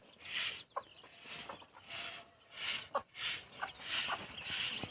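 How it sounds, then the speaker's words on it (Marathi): Hens, chicks and a large rooster on a farm, with repeated short clucks and calls arriving in bursts, moderately close, alongside scratchy rustling between them. "पिल्ले ते आपले मस्त या मित्रांनो कशा पळते मस्त आपले पिल्ले कोंबडीचे हा कोंबडा आपला मोठा"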